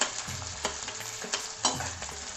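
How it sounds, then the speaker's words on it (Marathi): Onion and peanuts fry in a pan with a soft, steady sizzle, while a spoon scrapes and stirs in a few distinct strokes; close and fairly quiet, with no voices. "कांदा थोडासा लालसर झाला की आपण याच्यामध्ये शेंगदाणे टाकूया."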